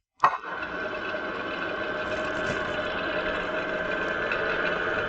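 Workshop lathe spinning a hoverboard motor used as an alternator at higher revolutions, starting with a sharp knock then settling into a steady, close whirring hum with a faint buzzing edge.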